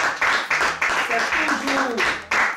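Church congregation applauding a newly married couple, a steady broadband patter of many hands running throughout, with a voice speaking over the clapping.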